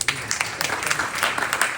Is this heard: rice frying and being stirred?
no